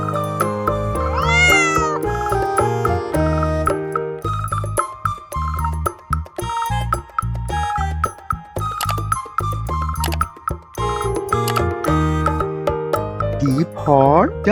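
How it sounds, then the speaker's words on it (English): A cat meows with rising and falling wails at the start and near the end, mixed with cheerful background music and a talking voice. "C for cat."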